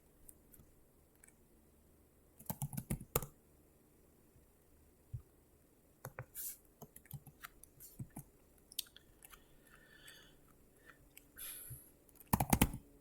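Computer keyboard typing, with scattered quiet key clicks and a few short, sharper bursts of keystrokes, close by in an otherwise quiet room.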